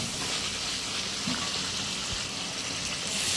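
Water poured into a wok of braised chicken curry on a home stove, a steady loud hiss and sizzle with faint bubbling throughout, no talk.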